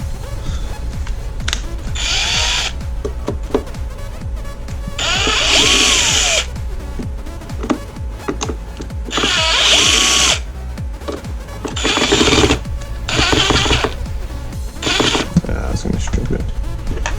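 Cordless power drill backing screws out of a Mazda Protege glove box latch assembly, several separate whirring bursts of a few seconds each with pauses between, close and loud, with a voice talking in the gaps.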